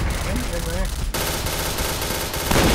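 Rapid bursts of gunfire crackle loudly and continuously after a brief moment of talk, sounding like automatic weapons fire in the game Point Blank.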